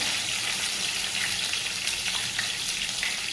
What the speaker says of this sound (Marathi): त्यामध्ये आपण टाकून घेत आहे हे बारीक केलेलं वाटण